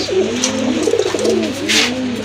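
A pair of fancy pigeons cooing close by, soft rolling coos repeating in overlapping phrases over a steady low background hum, with no talk.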